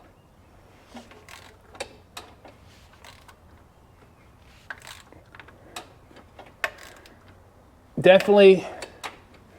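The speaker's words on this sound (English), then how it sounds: "let's turn this thing over by hand with the rocker arms in there" Engine with rocker arms installed being turned over by hand after running low on oil, a possible hanging valve suspected: sparse faint mechanical ticks and clicks spaced through the quiet, then a louder burst of activity near the end, with someone speaking briefly.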